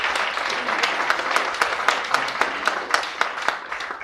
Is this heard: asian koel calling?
no